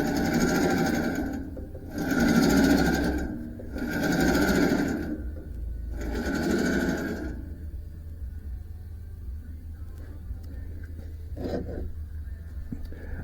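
A band sawmill runs with its blade rubbing against the rollers, giving four loud, harsh grinding surges about a second long each, then a steady low mechanical hum with a brief faint knock.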